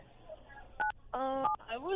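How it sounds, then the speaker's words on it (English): Telephone keypad dialing tones heard over a call-in radio line, a few short separate beeps in an uneven sequence, quiet and thin, with a voice speaking between and after them. "someone's beeping on your phone, like someone's dialing"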